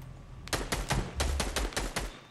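Rapid burst of about nine sharp gunshots in the Fortnite video game, close and loud, fired in quick uneven succession over a low rumble, with no talking.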